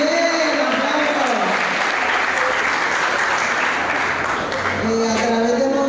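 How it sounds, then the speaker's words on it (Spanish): Audience at a Catholic Charismatic Renewal gathering in Managua, Nicaragua, breaks into steady, dense applause lasting several seconds, with voices calling out over it. "aplausos."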